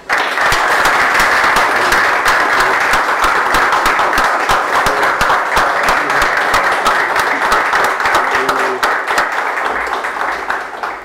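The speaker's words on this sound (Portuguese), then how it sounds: "uma salva de palmas, uma moção de aplauso ao Renan" Sustained loud clapping fills a Criciúma city council chamber during an ordinary session, a steady crackling roar of many hands for roughly eleven seconds with no talk over it.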